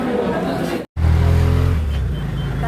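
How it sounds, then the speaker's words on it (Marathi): Auto rickshaw ride through the streets of Bhuj, a close, continuous engine drone and road rumble with a brief dropout, while people talk over it. "आता आम्ही चाललोय रिक्षातून उलटे बसून"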